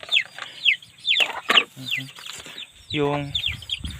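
Chickens clucking and squawking nearby in quick, irregular bursts, with a brief voice mixed in among the calls.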